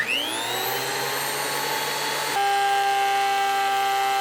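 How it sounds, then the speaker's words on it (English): A wood planer thicknessing a mahogany plank down to half an inch for a live steam locomotive tender deck, running as a loud, steady close-up whine with a sharp tonal shift partway through as the cut engages. "Here I'm using my wood planer to bring this piece of mahogany down to a 1/2-inch thick"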